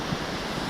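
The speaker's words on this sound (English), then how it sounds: "So we came to the waterfall." Steady broadband rush of a waterfall in the mountains on the south shore of Issyk-Kul lake in Kyrgyzstan, a constant close roar filling the short moment with no voices.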